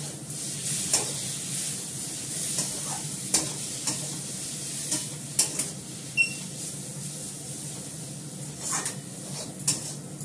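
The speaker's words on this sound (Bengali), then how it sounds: "একটু নাড়াচাড়া করে নামিয়ে ফেলবো" Chow mein with sauce tossed in a pan on a gas stove, a steady close sizzle broken by repeated scraping stirs and occasional metallic clinks against the pan.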